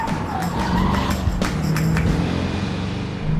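A Corvette brakes hard into a corner on a canyon road, its tires squealing in drawn-out wavering screeches over a loud, constant engine and road roar.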